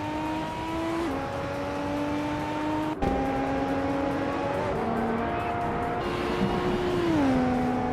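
A 2005 Mercedes SLR race car in a racing video game drives at a steady, loud engine drone, with pitch shifting through gear changes and slight dips as it holds pace, no talk over it.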